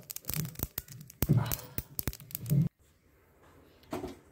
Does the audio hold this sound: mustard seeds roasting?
yes